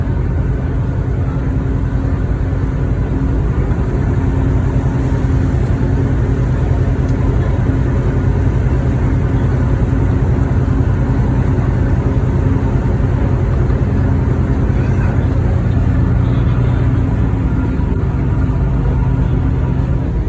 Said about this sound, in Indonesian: ini mesin kapalnya juga bunyi ya